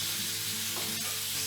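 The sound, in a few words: chicken frying briefly in a pan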